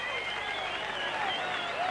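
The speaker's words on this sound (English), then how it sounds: "a good reception from a crowd" A crowd applauding at a 1984 rugby league test match between New Zealand and Great Britain, with steady, moderately distant clapping in an open stadium, partly under a commentator's voice.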